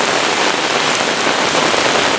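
Heavy rain driven by wind during a severe thunderstorm in Brooklyn, New York, a loud, steady hiss of downpour pounding surfaces close by, with no voices.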